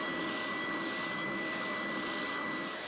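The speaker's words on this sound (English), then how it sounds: "A quick whiz around the outside on the spindle sander just to get rid of any tooling marks" Spindle sander running on the edges of a CNC-cut wooden catch-all tray, a steady whirring drone with a faint high tonal whine, constant and close for a few seconds.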